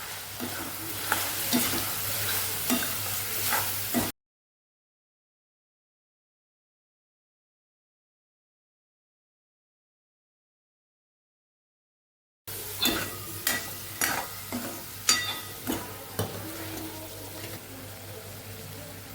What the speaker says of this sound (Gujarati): શાકને હવે સરસ આપણે હલાવી લઈશું